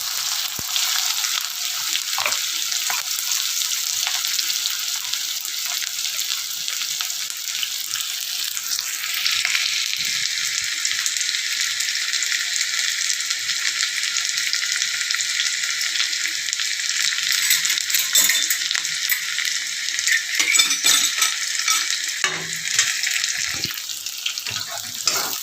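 Onion frying in a pan for matki usal, a Maharashtrian sprouted moth bean curry with potato, cooked with cumin and garlic: a steady, loud sizzle runs for the whole span with occasional stirring scrapes and no talk.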